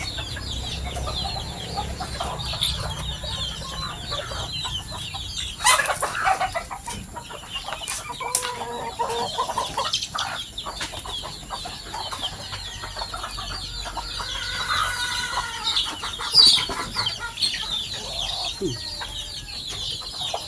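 Backyard chickens at morning feeding cluck and chatter for about twenty seconds, with a rooster among the flock, several birds calling close by in irregular bursts over a soft scratchy background, with a brief voice now and then.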